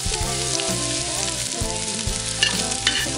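Onion and garlic frying in olive oil in a cooking pot, a steady loud sizzle with stirring scrapes and a couple of sharp utensil clinks.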